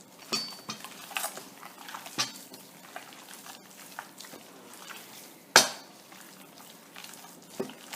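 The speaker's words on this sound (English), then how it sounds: "Mix it thoroughly. Make sure you get rice in everywhere." Ground beef and rice being mixed by hand in a bowl for albondigas, heard as soft squelching and scraping with a few sharp clinks of a utensil against the dish, fairly close and without talk.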